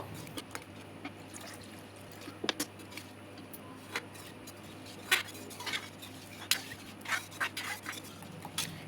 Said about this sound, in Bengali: এবারে আমি এতে জল মিশিয়ে ভালো করে গুলে নেব।